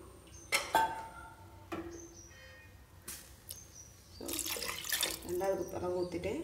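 Water pours into a cooking pot while sambar rice is being made, a soft splashing stream that builds and grows louder toward the end, with brief clinks before it.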